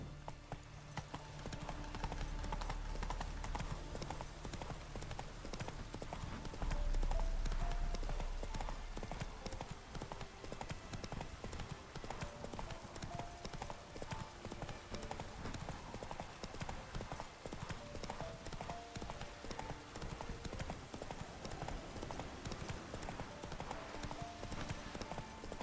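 Horse hooves clip-clopping in the video game The Witcher 3: Wild Hunt, a continuous rhythmic trot of hoofbeats mixed with game music and background ambience, quite faint overall.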